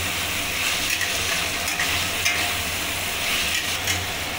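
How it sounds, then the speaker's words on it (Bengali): Chicken pasta frying in a pan while being stirred, a steady close sizzle with scraping stir strokes throughout, no talk. "এটাকে আমি ভালো করে নেড়ে নেব।"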